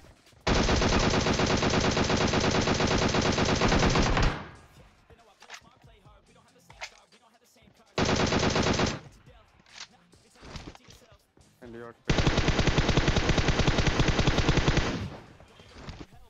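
A Groza rifle fires full-auto in PUBG: three long, loud rapid-fire bursts, the first and last lasting several seconds, separated by quieter stretches of movement and game noise.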